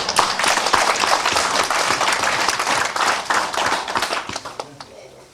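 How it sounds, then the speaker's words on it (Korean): Church audience clapping during an evening worship service, a dense burst of many hands applauding that fades out near the end, with some talk mixed in. "박수를 치려면 제대로 치고."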